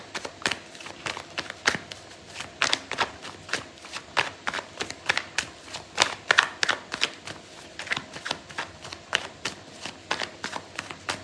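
Tarot cards being shuffled by hand, a steady run of crisp riffling flicks and taps repeating about twice a second, close and fairly quiet, with no talk.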